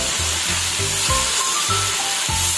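Pechay leaves tossed into a hot pan with egg and oyster sauce sizzle in a steady hiss, punctuated by a regular series of low thumps and scrapes as the greens are stirred.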